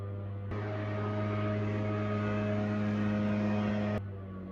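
A lawn mower motor runs outdoors as a faint, steady droning hum that starts and stops abruptly, with no voices over it.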